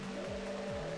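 A rear-wheel-drive race car in the racing video game Screamer 2 gives off a steady, buzzy engine drone. Its pitch dips twice, as with gear shifts, and the sound carries on continuously without speech.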